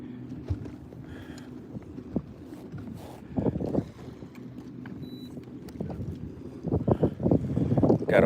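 Wind gusts buffet the microphone on an open bass fishing boat out on the water, a steady low rumble swelling into louder blasts toward the end, with faint knocks and water sounds underneath.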